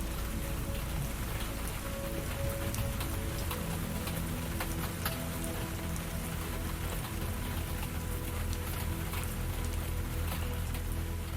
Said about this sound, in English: the pleasant scent of fresh rain on pine needles and moss